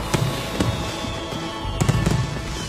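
Fireworks at a professional night display in Barcelona go off in sharp, booming bursts, a few isolated bangs followed by a quicker cluster, loud against a steady background hum.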